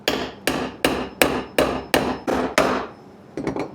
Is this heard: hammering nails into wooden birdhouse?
yes